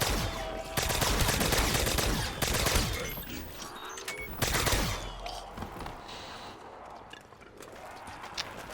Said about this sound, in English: shoot the Mark II for a bit.